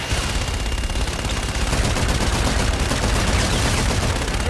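Continuous heavy automatic gunfire from a gun run in the video game Call of Duty Infinite Warfare, a dense, loud, unbroken roar of rapid shots throughout.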